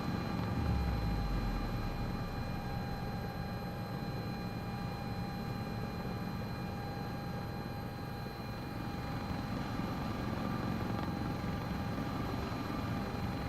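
Sikorsky S-76C++ helicopter in Microsoft Flight Simulator 2024, steady turbine whine and rotor drone at an even level throughout, with no talk.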